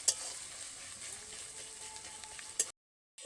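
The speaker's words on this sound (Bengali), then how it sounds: "আদা রসুন পেঁয়াজ ভালোভাবে ভাজা ভাজা করে নেব" Ginger, garlic and onion fry in a pan with a soft, steady sizzle close by, broken by a couple of sharp utensil clinks before the sound cuts to silence near the end.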